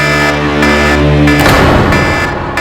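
A loud electronic alarm blares alone in steady, harmonic-rich tones, switching abruptly midway to a harsher, noisier buzzing pattern that keeps sounding to the end.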